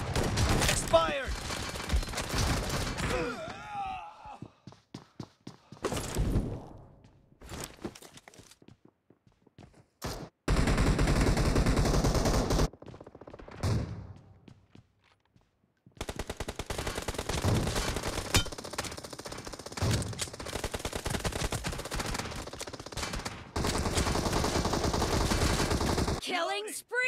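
Gunfire in a gun game video game arrives as rapid shots and fusillades in uneven bursts between quieter gaps, with some footsteps in the mix.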